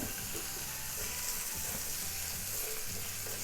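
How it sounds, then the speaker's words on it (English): Chopped onions sautéing in oil in a pan, giving a soft, continuous sizzle at low volume with faint stirring underneath, without any talking. "let these onions saute for about, I would say about 2 to 3 minutes in the oil that's in the pan"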